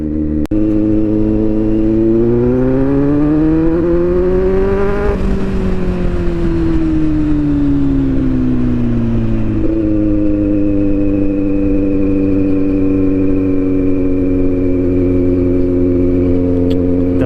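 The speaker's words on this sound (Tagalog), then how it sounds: "Enjoy nyo lang yung tunog ng makina, no? Yung ugong pag low speed." A motorcycle engine hums steadily at low speed, its pitch rising and easing as the throttle changes, loud and close throughout.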